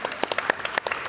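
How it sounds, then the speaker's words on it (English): A church audience gives a short round of applause, dense overlapping claps rising and falling over about a second, moderately near and steady. "let's have a round of applause"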